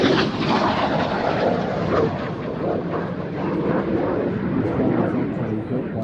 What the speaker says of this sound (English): enjoy this right now, of course. It is the F86 Saber.